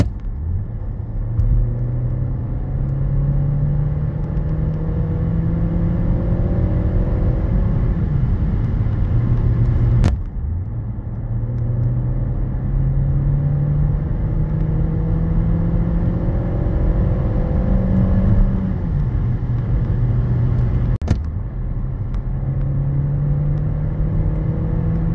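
Renault Symbioz E-Tech 145 full hybrid car accelerating, its engine drone rising steadily in pitch through repeated acceleration runs, with a brief click between runs and no talk.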